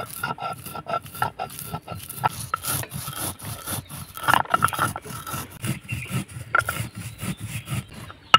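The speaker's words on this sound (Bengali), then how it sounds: "তো মশলাটাকে আমি এখন গুঁড়ো করে নেব।" Spices being ground by hand on a stone shil-pata slab for a mango pickle: rhythmic, gritty scraping strokes repeat close up, uneven in loudness, with no talking.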